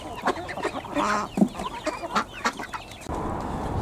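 Chickens cluck in a backyard suburban smallholding, with repeated short, close clucks and squawks scattered across the moment, alongside rustling movement, and a steadier background hiss rising toward the end.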